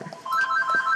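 A house telephone rings indoors with a steady electronic warbling tone, fairly loud and close, over faint background sounds.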